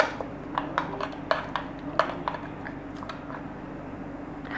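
A turmeric and yellow food colour marinade being mixed in a bowl for a raan roast, with a series of light clinking taps from a spoon against the bowl over a soft wet background, the taps thinning out toward the end.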